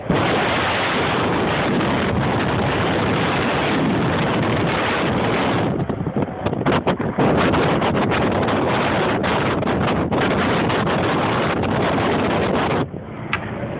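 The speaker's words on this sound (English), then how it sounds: "It's a blizzard out there." Heavy blizzard wind in Chicago roars and buffets the microphone in a loud, continuous rush with gusty surges throughout, nobody talking.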